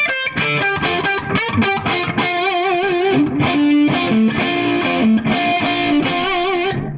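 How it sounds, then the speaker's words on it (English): Overdriven Les Paul electric guitar through a Bluesbreaker-style amp with a warm, crunchy tone plays a busy blues-style phrase of quick notes and bends, loud and up close. "how to get the blues breaker sound out of your Les Paul"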